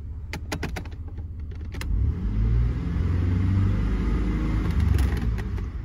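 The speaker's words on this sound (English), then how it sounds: "And then if I hit the throttle," A 2004 Chevy Blazer engine idles with a few sharp clicks, then rises into a louder, sustained rev as the throttle is pressed, holding steady through the end.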